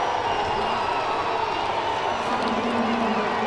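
A dense, steady roar from a large baseball crowd at a Major League game fills the whole stretch, loud and unbroken, with voices blending into the noise.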